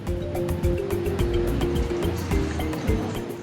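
Waves surge along the seafront at Da Nang, Vietnam, a continuous rolling wash with a low rumble and gusty wind, no voices, and a faint engine-like hum running underneath.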